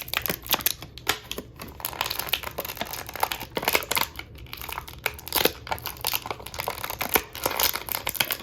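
A Star Wars Vintage Collection Armorer action figure is worked free of its plastic packaging, with dense crinkling, crackling and tearing of plastic and card in quick, irregular bursts, close and alone.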